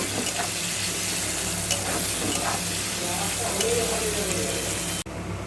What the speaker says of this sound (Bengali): এই তেলের মধ্যেই আমি দিয়ে দিচ্ছি পেঁয়াজ কুচিকে পেঁয়াজগুলোকে অনেকক্ষণ ধরে ভালো করে লাল লাল করে ভেজে নেব